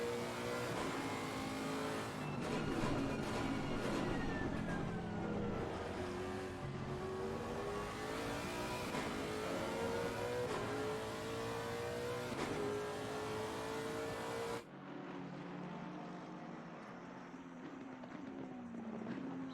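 GT race cars in the Assetto Corsa Competizione game, including a Lexus and a McLaren, lapping the Zolder circuit; engines rev and whine continuously with rising and falling pitch as cars accelerate and shift, sustained and fairly loud throughout.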